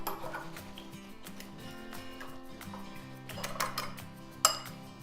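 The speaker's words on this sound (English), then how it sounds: "we're just going to mix that together" Sugar, egg and vanilla being mixed in a bowl for a brownie batter, with a spoon or whisk clinking and scraping against the bowl in irregular taps, close and fairly quiet, with one sharper knock near the end.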